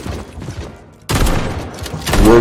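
Rapid gunfire in the video game Atomic Heart, a dense close burst of shots that drops briefly, then returns louder and continues to the end.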